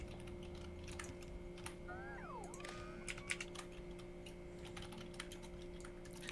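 Computer keyboard typing during a Factorio game session, quick irregular clicks and taps over a steady electronic hum, fairly quiet, with a brief sliding tone in the middle.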